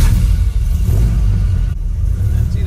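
An 8-liter Dodge Viper V10, converted for off-road use, rumbles loudly on wet pavement in the rain, a steady deep engine drone held close and unbroken for the whole stretch, with no talking.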